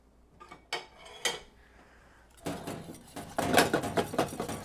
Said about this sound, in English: We're just going to use the whisk.